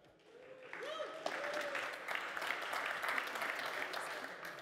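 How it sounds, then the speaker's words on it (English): An audience at a tech conference speaker Q&A applauding, a dense steady clapping that builds quickly and holds for several seconds, with a brief voice at the start before it rises. "big round of applause"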